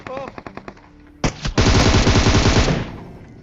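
Gunfire in the battle royale game PUBG Mobile, likely a shotgun: several sharp single shots, then a loud sustained automatic burst lasting about a second and a half, close and dominant.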